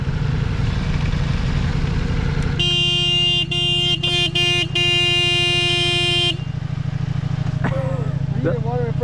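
A 2023 Ducati Multistrada V4 Rally motorcycle horn blares in several close bursts, one long sustained blast broken by short stutters, over the low rumble of an idling engine.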